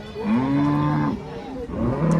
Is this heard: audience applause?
no